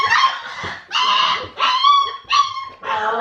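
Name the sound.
Great Dane puppy crying, whimpering because left out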